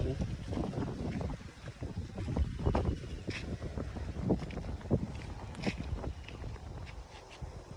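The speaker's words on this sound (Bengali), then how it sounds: "কি সুন্দর বাতাস হইতেছে, হাওয়া বাতাস।" Steady wind buffets the microphone outdoors with gusty rumble and scattered thumps, no clear speech.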